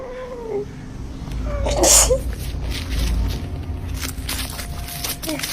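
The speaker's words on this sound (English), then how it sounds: "I need to sneeze." A single sharp sneeze bursts out amid indoor room noise, with a faint animal-like whine before it and low background murmur afterward.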